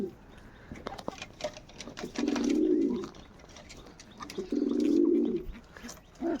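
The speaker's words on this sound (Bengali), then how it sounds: "এদিকে আমার একটা চিনি পায়রা আছে" Two low, throaty pigeon coos stand out amid quiet rustling and light taps, each lasting under a second, from domestic pigeons kept by a fancier.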